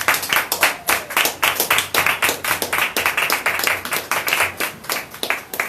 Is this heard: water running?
no